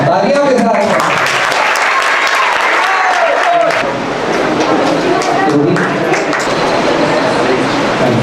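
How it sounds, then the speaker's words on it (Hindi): Audience at a Hare Krishna evening devotional program claps together, a loud dense patter sustained throughout with voices and some chanting mixed underneath. "तालियां के साथ"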